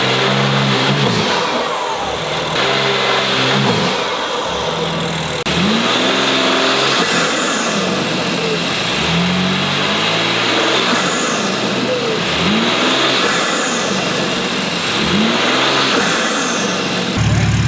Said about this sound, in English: And now it's time to get you guys some sound clips.